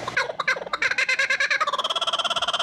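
Macaw parrot in a pet store giving rapid, loud, close chattering calls, then a fast run of repeated harsh notes.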